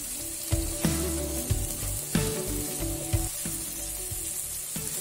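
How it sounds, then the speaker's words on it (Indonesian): Blended spice paste with ginger, lemongrass, bay leaf and lime leaves sizzling and frying in a hot pan, with intermittent scrapes and knocks of a utensil stirring it, close up. "Kemudian kita saute dulu bumbu yang tadi sudah di blender."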